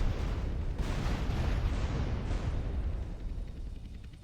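Sustained barrage of gunfire and explosions from a pair of attack helicopters in GTA San Andreas, loud and dense at first, then thinning and fading slightly toward the end.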